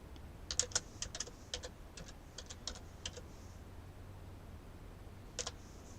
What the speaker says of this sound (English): let me just type up this